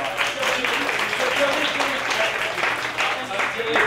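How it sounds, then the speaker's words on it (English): An audience at a storytelling improv show claps steadily in a round of applause, dense and sustained, with some voices mixed in. "Give Jolene a round of applause"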